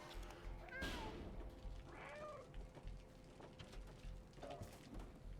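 A cat meows a few times in the video game Stray, short rising calls over a constant hiss and low rumble of game ambience, fairly faint and with no speech.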